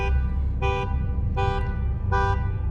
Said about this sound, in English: Someone's gonna need to fix that alarm over there